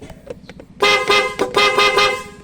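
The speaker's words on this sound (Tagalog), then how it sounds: "Ito naman yung switch niya sa horn." An electric bike horn honks close by in a few loud, bright bursts, the last blasts running longer, with faint clicks before the first honk.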